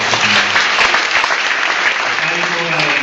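Congregation applauding at a church anniversary service, sustained dense clapping throughout with some voices mixed in.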